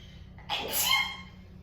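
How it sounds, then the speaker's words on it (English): A single short sneeze bursts out at moderate volume in a quiet yoga class, with a brief breathy tail and no talking. "Sneezes are welcome in yoga class."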